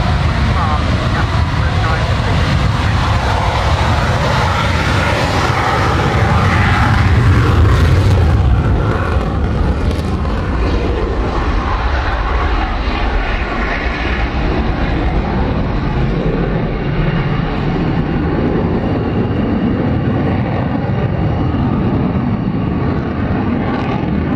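A Saab Gripen fighter jet of the Swedish Air Force flying an air display at RIAT 2014 with smoke generators fitted, a loud, continuous roaring engine rumble that swells and slowly fades, with a commentator talking over it throughout.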